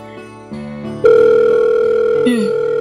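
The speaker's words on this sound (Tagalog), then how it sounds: "Nagre-ring naman." A mobile phone rings back through the earpiece of an outgoing call, a steady tonal ring pattern that rises in loudness after the first second and keeps going, with a short sliding tone near the end.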